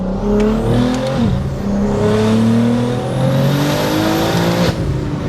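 A single-turbo BMW G80 M3 engine, around 1000 horsepower, revs hard and loud close by, its pitch climbing and dropping through several throttle pulls, with a faint turbo whistle rising over the roar.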